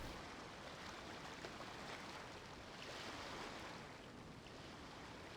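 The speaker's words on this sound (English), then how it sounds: "Like, listen to the water." Water and waves lap steadily in the video game Genshin Impact, a soft, continuous surf wash with a faint wind hiss and nothing else over it.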